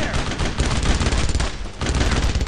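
Loud, continuous MG-42 machine gun fire rattling through a Brothers in Arms WWII battle, dense rapid rounds with a brief lull before the burst continues.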